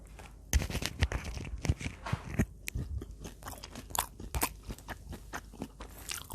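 Close, crisp crunching bites and chewing of a crispy kimchi pancake, irregular snaps repeating throughout with no talking.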